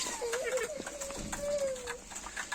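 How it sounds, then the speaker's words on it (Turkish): Pet birds and Chinese chickens give soft coos and calls that sit faintly under a person talking nearby. "Bu şekilde kuşlarımızı da gösterelim."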